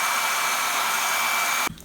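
A hair dryer blows steadily on Mod Podge coating a jellyfish diorama, a loud close whooshing hum that cuts off abruptly near the end.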